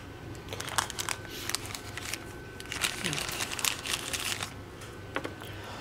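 Crinkly plastic packaging rustles and crackles as new engine parts for a Foxbody Mustang turbo build are unwrapped, close and busy, with someone talking over it.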